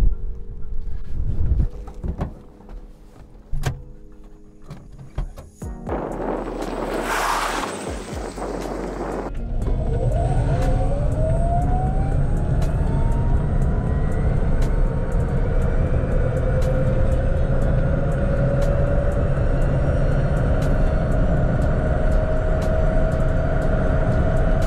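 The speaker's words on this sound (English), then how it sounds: "I will show you now the acceleration, how this car really performs" A small Electa Nevo electric car with a 10 kW motor and upgraded 20 kWh battery accelerates: after a few seconds of bumps and rustle, a thin motor whine rises steadily in pitch over continuous road and wind rumble, close and without talk.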